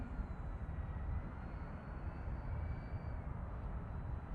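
A radio-controlled model plane with flaps down makes a slow, distant pass, a faint thin electric motor whine barely rising above a steady rush of wind.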